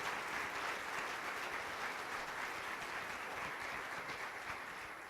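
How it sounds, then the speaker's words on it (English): A large congregation applauds the choir after its performance at a Martin Luther King Jr. birthday celebration, a dense, steady wash of clapping that stays loud and fills the room, fading only slightly toward the end. "can we give the choir another round of applause for that great presentation this morning?"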